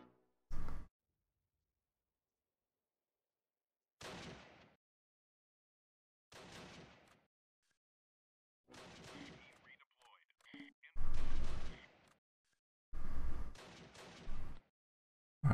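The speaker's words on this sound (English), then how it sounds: "Where's that fire coming from?" Gunfire crackles in the Close Combat war game, with sharp isolated shots and short bursts spaced out between silent gaps, some loud and near, others fainter, with brief voice lines among them.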